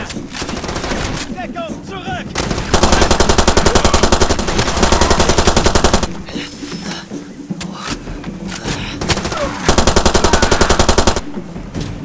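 Sustained machine gun fire in Far Cry 2 comes in two long, loud, rapid bursts, with scattered rattling and ambient battle noise between them.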